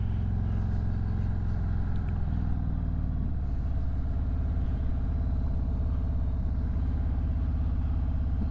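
Couple of cars near a quiet beach day-use area, heard as a low steady engine rumble and hum at a moderate distance, with no talking.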